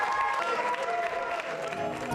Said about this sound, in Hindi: तालियां जोरों से बजाइए इस नृत्य प्रस्तुति के लिए